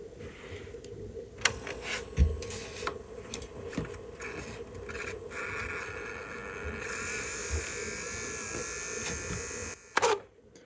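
A stuck mode motor in a Nakamichi cassette deck runs with a steady whirring hum, with a few clicks and knocks and a thin rising whine partway through, ending in a sharp clunk.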